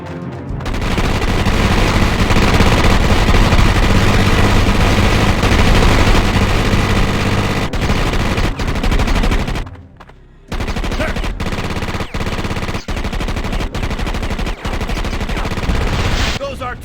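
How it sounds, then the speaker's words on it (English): Artillery and gunfire in the Starship Troopers video game, dense continuous bursts of shots and booms, a brief pause near the middle, then sharp repeated blasts. "Those artillery rounds are limited, Cadet. Use them sparingly."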